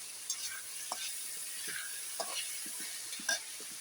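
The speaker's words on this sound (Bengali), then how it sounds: "আর চিংড়ি মাছগুলো একসাথে তেলের মধ্যে ভাজা হয়।" Shrimp and potato frying in oil with turmeric powder, a quiet steady sizzle broken by soft scattered taps and scrapes from stirring.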